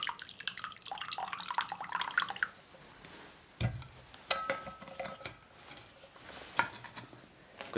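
Liquid pours from a bottle whose cap is unscrewed only a couple of turns, a gurgling trickle up close, followed by scattered drips and small clinks on a winter trail.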